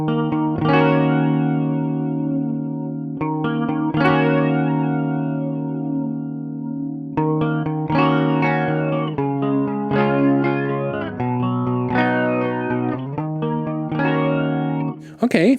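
Clean guitar through a Strymon Zelzah phaser with resonance turned up, giving a sweeping, flanger-like whoosh over sustained chords and arpeggiated notes, moderately loud and alone.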